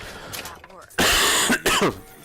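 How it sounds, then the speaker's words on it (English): A single harsh cough breaks out close by, two quick bursts with a throat-clearing quality, following brief speech. "sorry for that cough"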